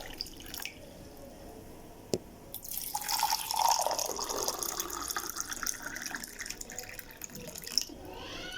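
Hot water is poured into a cup, a rising splashing, gurgling stream that swells after a few drips and continues close and clear, with no talking.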